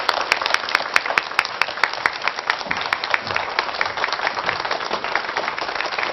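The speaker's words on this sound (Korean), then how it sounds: "큰 박수로 모시겠습니다." Lively applause from a lecture audience welcoming a water expert to the stage, a continuous dense clatter of many hands with some sharper individual claps standing out, no voices over it.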